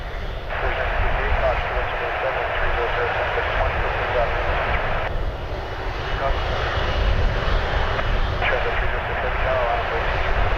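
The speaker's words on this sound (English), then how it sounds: "A321-200 off to Quebec City, Rouge 1958" An Air Canada Rouge Airbus A321-200 takes off from Toronto Pearson for Quebec City on a Friday night, its jet engines giving a loud, continuous roar that holds steady throughout, with a voice talking over it.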